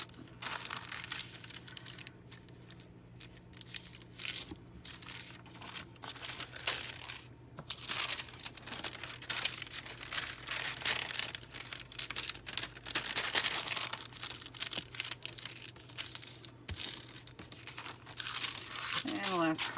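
Paper is folded and crinkled while making handmade journals, with continuous close rustling and crumpling bursts and a faint low hum underneath.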